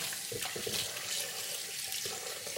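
Tap water runs steadily into a kitchen sink as pork chops are washed, a continuous close hiss and splash with faint shifting clatters as the meat is handled.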